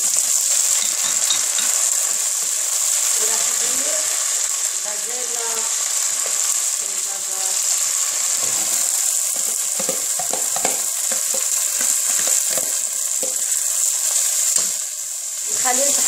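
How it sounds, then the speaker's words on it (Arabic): Ingredients for a Lebanese kabsa, including green beans, sizzle and fry in a pan over the flame, with a steady hissing crackle running the whole time and occasional stirring noises beneath it. "خلي حتى يستووا يحمروا بالنار"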